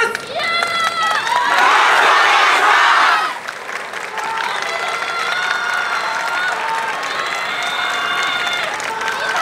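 A festival crowd cheers and shouts at a Japanese yosakoi-style dance festival, a loud surge of many voices and applause that peaks early, then eases into sustained shouting and calling from performers and onlookers.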